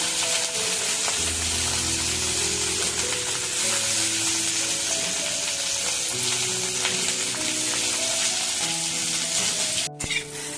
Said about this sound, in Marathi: थोडं थोडं तेलात फ्राय करून घेते ना ते छान लागते